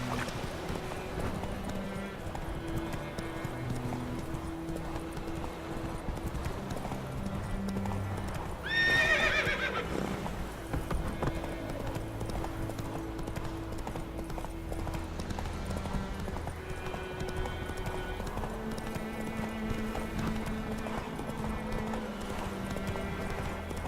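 Roach the horse gallops in The Witcher 3 with steady, rhythmic clip-clop hoofbeats throughout, a short whinny near the middle, and game music under the hooves.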